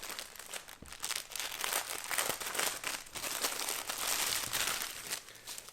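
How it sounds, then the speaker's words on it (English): A plastic bag of motorcycle windscreen brace hardware is crinkled and rustled open up close, with continuous crackling handling noises throughout. "let's open the bag now of hardware"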